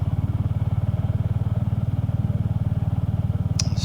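A motorcycle ridden along lanes in the Lake District, its engine a steady, rapid, even thrum throughout with a brief higher clatter near the end.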